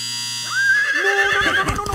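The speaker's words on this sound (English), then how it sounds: "please don't scare the horses" Cartoon horse neighing, a single loud whinny rising and wavering, followed by a few hoof clops and rustling near the end.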